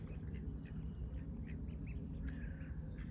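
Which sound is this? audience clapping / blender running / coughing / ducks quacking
ducks quacking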